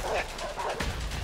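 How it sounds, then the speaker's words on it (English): Doberman dogs bark in the A Way Out video game, giving several quick yaps and woofs in close succession over a dense, loud game soundscape while a person talks over them. "Oh God, they got dogs. Are those Dobermans?"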